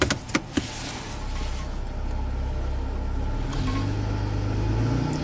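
Nissan Xterra 3.0-liter V6 engine with a rich fuel condition, running under load: a steady low mechanical drone that climbs in pitch toward the end, heard close with no talking.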